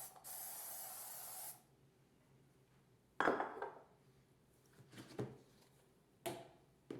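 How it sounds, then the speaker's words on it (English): A steady hiss of no-stick cooking spray coats a skillet for about a second and a half, followed by quieter clinks and light handling clatter of kitchen items. "I'll start by spraying the skillet with no-stick spray."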